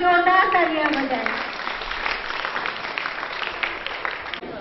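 An audience at an Independence Day program at DIET Rambagh, Muzaffarpur, Bihar claps for a teacher, Keshav sir: steady dense applause that rises as a voice trails off, then holds at moderate level through the end.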